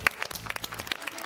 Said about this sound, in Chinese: 真的给他鼓鼓掌，真的。